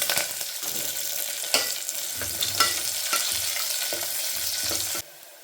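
Sliced onions go into three to four spoons of hot oil with mustard seeds and curry leaves for a vegetable sagu. A steady loud sizzle is broken by several sharp stirring scrapes and clanks, then it cuts off abruptly.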